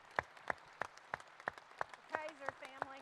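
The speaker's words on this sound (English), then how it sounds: "Let's give them a round of applause." Sparse, spaced-out claps at a cattle auction pen sale, about eight separate slaps in three seconds rather than a full ovation, with a voice briefly audible toward the end.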